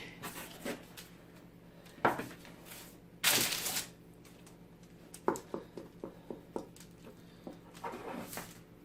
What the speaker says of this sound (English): I just want to do is cut off any darker hard edges